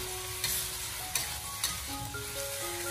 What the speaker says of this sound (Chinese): 将鱼片给它摊开来炒， 用锅铲给它快速的进行翻炒